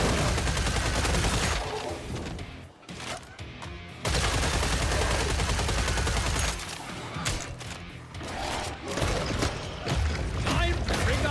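Heavy gunfire in Killing Floor 3, rapid automatic bursts firing nearly nonstop, with brief lulls between volleys and a voice talking partway through.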